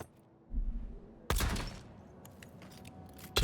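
Gunfire in the fantasy game Avowed, a short burst of sharp shots followed by a louder crackling volley and scattered impacts, fairly close, with quiet moments between.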